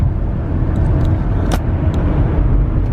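Steady close engine and road drone from inside a 2006 Nissan car cruising at about 60 mph near 1500 RPM, with a broad low rumble and a few faint clicks and a brief whoosh, no talk.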